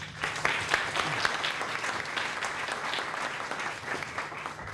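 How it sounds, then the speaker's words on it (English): Audience at an Educators of the Year award event applauds two honorees, a dense, even round of clapping filling the room for a few seconds without a break. "they both deserve a round of applause again"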